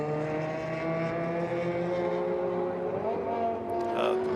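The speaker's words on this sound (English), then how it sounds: "Several cars on pit lane now, conducting pit stops as we watch the 26 car circulate" Race cars idle and rumble in the pit lane during the Daytona 24-hour race, a steady layered engine drone with tonal whine and a rising rev near the end, loud and continuous throughout.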